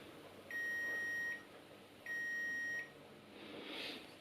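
A multimeter gives continuity beeps while its leads touch the pins of a motorcycle stator, two steady tones each lasting under a second, separated by a short gap, against quiet background.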